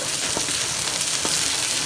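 Garlic, onion and ginger sautéing in a hot pan, a loud steady hiss of sizzling oil with a couple of faint stirring taps, close and unbroken.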